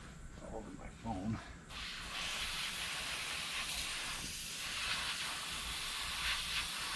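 An airbrush spraying paint in a steady, continuous hiss that starts partway through and runs loud to the end, with people talking before the spray begins.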